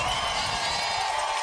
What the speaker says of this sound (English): And the crowd's going for here. Listen to the roar.